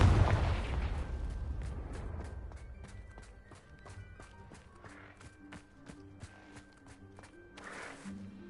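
A Confringo blasting spell goes off in Hogwarts Legacy on PS5, a loud booming burst at the start that fades into a string of sharp cracks, thuds and clattering impacts with faint background tones.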